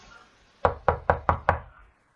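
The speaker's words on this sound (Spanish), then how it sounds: "Gritó cuando escuchó que llamaban a la puerta" Five sharp, evenly spaced knocks on a door, loud and close, with nothing else heard.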